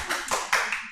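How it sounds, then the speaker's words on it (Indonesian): Students in a classroom clap their hands loudly together, a burst of bright, overlapping applause in a few quick surges, close and with no talking. "Tepuk tangan. Yang keras."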